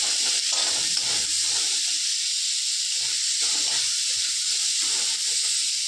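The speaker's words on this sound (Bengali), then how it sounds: "তারপর ভালো করে পেঁয়াজটাকে ভেজে নেব।" Onions with green chilli paste and slit green chillies fry in a wok for chicken curry, giving a steady close hiss with faint crackling.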